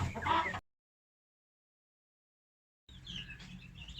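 Chicks and chickens cluck and peep in two short bursts, one at the start and a longer one near the end, with silence between.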